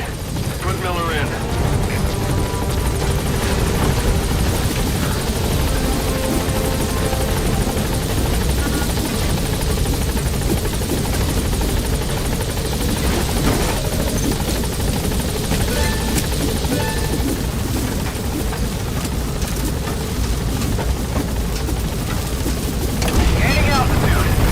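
A helicopter in the video game Metal Gear Solid V takes off, a loud, steady rotor roar and engine whine filling the whole stretch, with a voice speaking over it.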